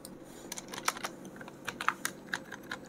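HTML code is typed on a computer keyboard in fast, uneven bursts of soft, close clicks for about three seconds, with no voice heard.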